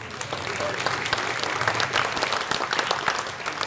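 Guests at a community awards banquet break into full, sustained applause for the award winners, a thick, lively burst of many hands clapping at once, with a few voices murmuring beneath it.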